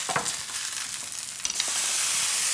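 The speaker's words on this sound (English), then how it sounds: "and give it a good stir" Roast chicken juices sizzle in a hot pan while being stirred for gravy, with a few scraping strokes early on followed by a loud, steady hiss that swells and holds.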